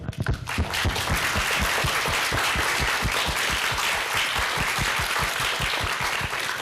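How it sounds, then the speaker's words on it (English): A university audience applauds its director in a sustained, full round of clapping, loud and even, with a steady rhythmic thump running through the crowd noise. "ask for a round of applause for our director"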